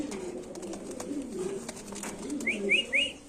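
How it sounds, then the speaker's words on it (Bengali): Fancy pigeons at a pigeon farm, soft, low cooing and wing rustles with faint background noise, ending in three quick, bright chirps close by. "দেখেন কবুতরটা মাসাল্লাহ কতটা অ্যাক্টিভ"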